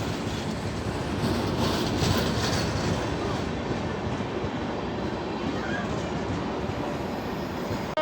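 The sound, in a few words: train passing at Faridabad station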